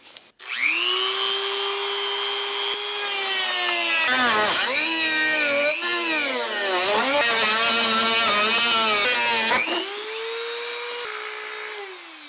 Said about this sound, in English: I want to cut a little bit of this panel off